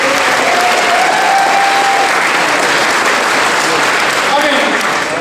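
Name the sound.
applause from audience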